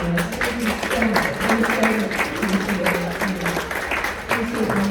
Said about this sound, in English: Let's give a round of applause for all of our wonderful panelists.